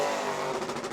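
A Pro Late Model race car roars past at New Smyrna during a qualifying lap, its engine note rising and then shifting as it goes by over about a second, loud and close.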